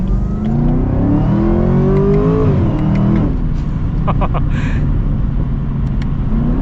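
A 2024 Chevrolet Camaro ZL1 convertible engine revving and accelerating on a road, a loud, close growl that climbs in pitch, drops back after a gear change, then settles into a steady rumble.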